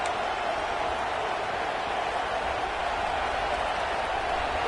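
A football stadium crowd roars loudly and continuously, a dense sustained wall of noise with no letup, loud enough to draw a false start from the offense.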